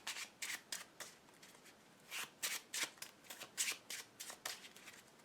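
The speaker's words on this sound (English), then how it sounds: "we only have 5 here, so we have to shuffle the deck" A deck of cards shuffled during a Marvel Legendary board game, with repeated crisp riffling bursts in an irregular rhythm, close and fairly quiet, with no talking.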